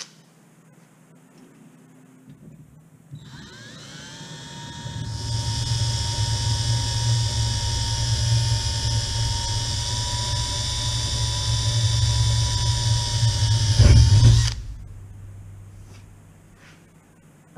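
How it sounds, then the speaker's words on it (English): A power drill with a small bit bores holes in an aluminium rib for an RV-14A aircraft vertical stabilizer. The motor spins up to a steady high whine for about ten seconds, then bites through with a brief rough grind before stopping. "But I'm going to start with a smaller drill."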